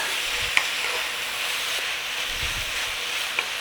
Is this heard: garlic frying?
yes